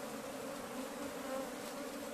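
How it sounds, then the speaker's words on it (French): Honeybees buzzing at a modern beehive during beekeeping training in Minvoul, northern Gabon. The hum is soft, steady and close, with no voices. "Les abeilles vont essayer, voir comment ils se battent."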